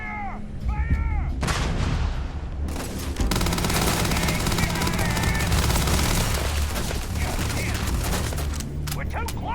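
Heavy gunfire in the Starfield video game, dense rattling bursts and booming shots layered with shouted voices, loud and continuous across the whole stretch.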